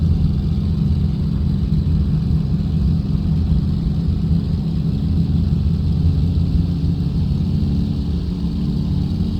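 A Flight Replicas P-40N Warhawk RC model in flight at Damyns Hall, Earls Colne, its engine and propeller giving a steady, loud droning hum with a low throbbing tone that holds constant throughout, with no voices.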